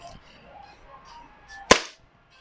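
A WE Beretta M92 airsoft pistol fires a single BB, giving one sharp, close crack over faint background murmur, followed by quiet.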